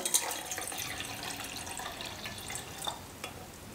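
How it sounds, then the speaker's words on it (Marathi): Water is poured into a ritual kalash pot holding durva grass during a Margashirsha Lakshmi vrat puja, a continuous close splashing trickle that lasts the whole stretch with no talk over it. "यामध्ये आता आपण पाणी घालून घेऊया"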